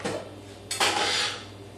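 Chicken pieces and peppers drop into a hot frying pan, setting off a sudden loud sizzle that keeps crackling steadily, with a faint clink of cookware beforehand.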